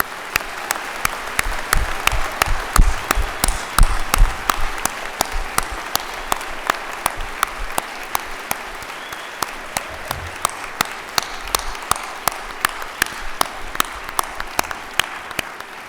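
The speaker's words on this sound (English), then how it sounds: "Why don't we have a round of applause for all our bachelor's degree recipients?" A university graduation ceremony audience claps for bachelor's degree recipients; dense, steady applause from a large hall crowd runs throughout, with some individual claps standing out sharply near the front.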